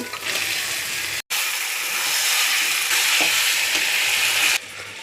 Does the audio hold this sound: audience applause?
no